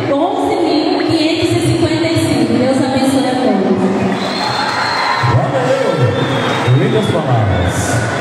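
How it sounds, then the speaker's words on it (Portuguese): Loud applause and cheering from a crowd at a PP party convention, a dense sustained roar of clapping and shouts with voices mixed in, filling the space continuously for several seconds. "Palmas."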